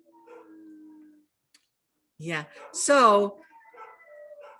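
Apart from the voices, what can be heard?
dogs barking and howling in the background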